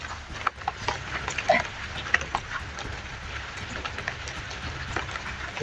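Heavy rain falls in a steady broadband wash, with scattered louder drops and spatters, and some low rumble underneath; no voices are heard.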